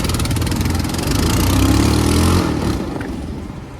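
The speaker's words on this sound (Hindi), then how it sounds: "सब जगह ट्रैफिक ही लगा हुआ है।" A mid-sized engine idling and revving close by in a traffic jam on a hill road, a steady throbbing hum that swells briefly and then eases off.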